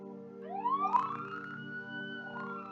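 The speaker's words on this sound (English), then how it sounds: "Police sirens?" Police siren wail in a video game, rising and sweeping over a steady drone of game background music, moderately loud and alone without speech.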